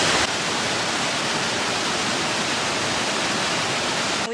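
River water rushing beside a parked van, a dense, steady broadband roar with no breaks, loud and close.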